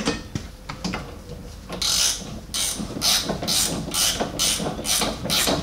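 A ratchet turns a T60 Torx bolt on the rear brake of a Renault Megane 3 or Scenic with an electric parking brake. Close, regular bursts of metallic clicking come in a steady series without speech.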